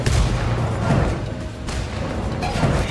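Bursts of gunfire from the Spec Ops game in a Bolivia mission, rapid overlapping shots and booms rolling loud and dense through the whole stretch.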